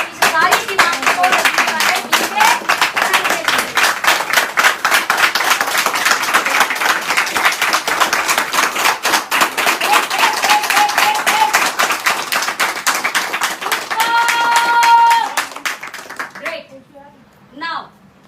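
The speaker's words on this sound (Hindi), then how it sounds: "ताली लगा दो एक बार कंपनी के लिए" Audience applause for a company during a Hindi business-plan presentation, a dense sustained crowd clapping lasting about fifteen seconds, loud and steady, with a brief tonal sound near the end and a short quieter burst after it fades.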